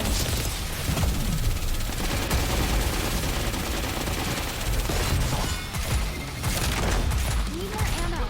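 Dense gunfire in a Goddess of Victory video game cutscene: loud, sustained bursts of automatic fire with booming impacts, continuous throughout, with voices mixed in under the shooting.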